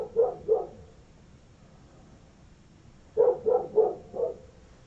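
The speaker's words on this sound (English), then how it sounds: "It sounds like the dog's outside." A dog barks in two bursts, a pair of barks and then four more, sounding somewhat muffled as if from outside or another room.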